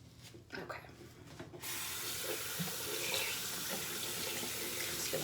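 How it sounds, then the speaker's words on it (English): Tap water runs into a sink while a cosmetic sponge is rinsed, a few soft splashes and handling noises first, then a steady close rushing stream that continues to the end. "Just gonna rinse him first."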